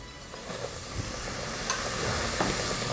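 Steady crackling sizzle of breaded shrimp frying in hot oil, with a few soft pops and bubbles, close by and moderately loud.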